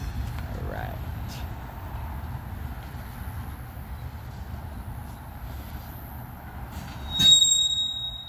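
Steady low rumble of a 61-car freight train rolling past, hauled by Union Pacific GP38N and SD40N locomotives, with a sharp metallic squeal near the end and a voice briefly audible in the background.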